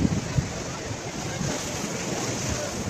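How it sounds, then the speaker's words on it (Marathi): Seawater surging hard against eroded coastal rocks on the Konkan shore near Harihareshwar, a steady broadband wash of surf with wind buffeting the microphone, continuous and fairly close, with no talk over it. "आणि किती प्रेशरने इथे पाणी येतं बघा तुम्ही"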